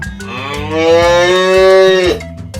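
A cow gives one long, loud, drawn-out moo that swells and fades, set over a steady plucked musical backing.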